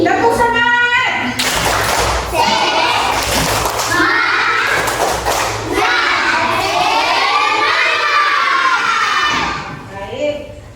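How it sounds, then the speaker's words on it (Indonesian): A classroom of children perform a rhythmic spirit clap, patterned hand claps mixed with loud shouted chanting, led by a teacher whose voice is heard around them. "Semangat, tepuk semangat."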